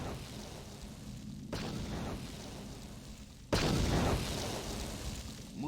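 Explosions in Star Wars: Knights of the Old Republic: two sudden booms, the second much louder, each followed by a rumbling decay.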